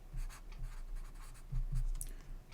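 Marker or chalk strokes on a board during a circuit analysis lecture, a series of short scratchy squeaks in irregular bursts, fairly close and with no voice over them.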